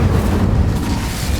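A fiery spell burst in the wizarding game Hogwarts Legacy, heard as a short, loud whooshing rumble of flame that fills the moment and fades slightly toward the end.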